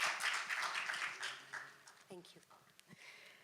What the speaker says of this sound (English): Please join me with a round of applause for Dr. Rachna Buxani